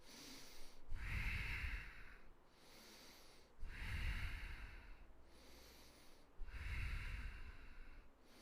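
Deep, slow breaths during a seated prayer twist in a yoga class: three long breath cycles, each a broad rushing inhale or exhale of a couple of seconds with short pauses between, close and fairly quiet, with no talking.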